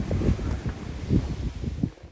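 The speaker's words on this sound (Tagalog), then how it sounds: "Grabe yung hangin." Strong wind buffets the microphone in heavy, uneven gusts, producing a constant low roaring rumble.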